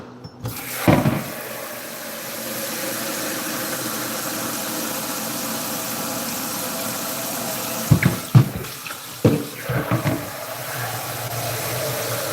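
Water runs steadily from a kitchen tap into a pot while beef soup is being cooked, a continuous rushing stream with a few clunks and knocks near the start and toward the end.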